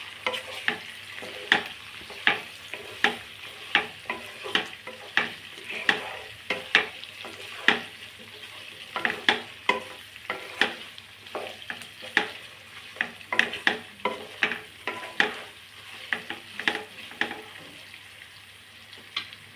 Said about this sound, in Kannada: 1 ಸ್ಪೂನ್ ಧನಿಯಾ ಪುಡಿ ಹಾಕ್ಕೊಂಡು ಚೆನ್ನಾಗಿ ಕಲಸಿ ಚೆನ್ನಾಗಿ ಮಿಕ್ಸ್ ಮಾಡಬೇಕು